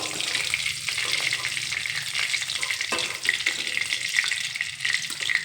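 Fish frying in hot oil in a pan gives a steady, close crackling sizzle with small pops, continuous and without speech.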